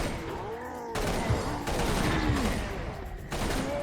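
Rapid gunfire from the Serious Sam BFE video game, with dense bursts of shots mixed with growling enemy noises and explosive hits, loud and continuous.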